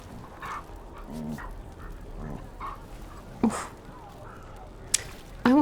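A Mubari war dog in the video game Dragon Age: The Veilguard, giving several short whimpers and yips spread through the stretch amid quiet game ambience, with a few sharper sound effects near the end.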